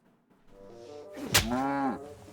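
A single cow in Kingdom Come: Deliverance II gives one loud, close moo that swells and holds before ending, with a faint murmur beforehand.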